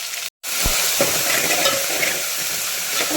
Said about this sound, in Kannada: ಈಗ ಇದಕ್ಕೆ ನಾವು ಹೆಚ್ಚಿಟ್ಕೊಂಡಿದ್ದಂಥ ಮೆಂತ್ಯ ಸೊಪ್ಪು ಮತ್ತು ಕೊತ್ತಂಬರಿ ಸೊಪ್ಪು ಎರಡನ್ನೂ ಹಾಕ್ಕೊಳ್ಳೋಣ